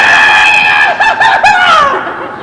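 A person imitates a shrill, high-pitched scream like a young girl's, with a long wavering cry that breaks into rapid choppy yelps and then trails off, loud and close.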